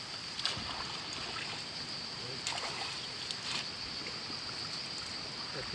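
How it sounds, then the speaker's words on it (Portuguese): A strong river current rushes past as a steady, fairly faint broadband wash, with a few brief splashes breaking through the continuous flow. "A correnteza hoje tá forte."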